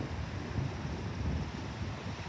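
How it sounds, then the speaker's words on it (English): Strong wind buffets the microphone outdoors in southern Minnesota with a constant low roar and rumble, close and unbroken, with no voices. "Very windy day today"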